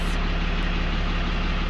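A Dodge Ram 5500 with a 6.7L Cummins diesel idles nearby, a steady, even low rumble with no revving, heard alone.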